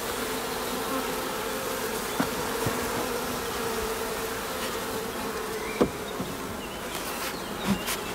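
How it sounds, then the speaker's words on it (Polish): Honey bees at a single-frame hive split buzz in a steady, close drone, with a few louder passes by individual bees along the way and no talking. "Na chwilę obecną pszczoły są tutaj zamknięte."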